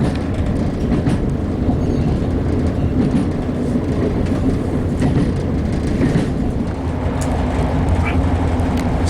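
Inside a passenger carriage of a Yorkshire train in a declassified first class section, a loud continuous rumble with rhythmic rail clatter runs steadily throughout, with voices murmuring faintly beneath.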